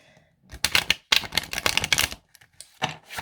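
Tarot cards being shuffled in quick riffling bursts, a few short crisp flurries separated by brief pauses, close and fairly quiet.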